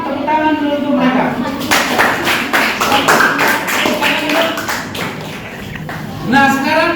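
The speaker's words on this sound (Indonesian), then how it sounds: "Tepuk tangan dulu untuk mereka." Applause in a classroom for a group that has just finished presenting, a burst of many hands clapping at once, heard together with a teacher speaking.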